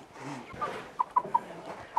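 Easter egger hens clucking up close, a few short soft clucks spaced over a couple of seconds against a quiet coop background.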